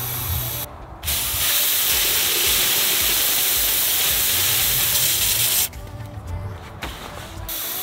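Steady loud hiss of gas rushing into a propane tank during home filling, continuous for several seconds with abrupt drops at the start and end, no voices.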